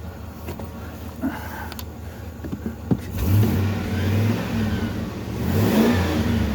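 A 2004 Chevrolet Silverado 2500HD engine being revved, with a few sharp clicks and knocks up front before the engine swells into loud, rising revs that surge and ease back, close and alone without talk.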